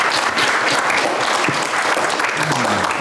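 Loud, dense applause from a studio audience at a talk show, continuous clapping from many people with faint crowd murmur underneath throughout.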